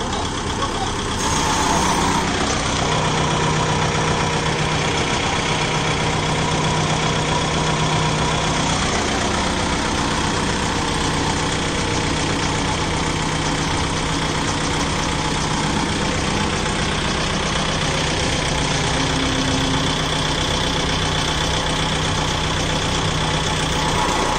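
A Kubota MU5502 tractor engine runs steadily at about 1000 RPM, a loud, continuous mechanical drone close by with little change throughout.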